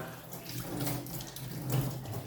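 A kitchen tap runs steadily while pork is washed under it for Thai larb, a close, continuous splashing stream that swells slightly as the meat shifts beneath the water.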